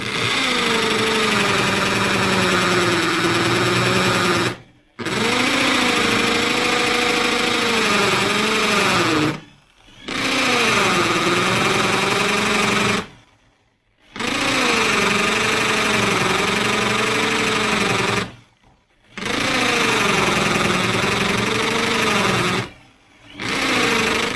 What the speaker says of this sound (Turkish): Bu makine ya uç yalpalıyor birazcık. O yüzden çok yüksek bir devirde çalıştırmıyorum.